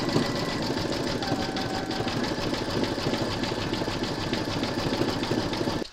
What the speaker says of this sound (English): now you're going to stitch round number 9, and that's going to do the zigzagging all the way down here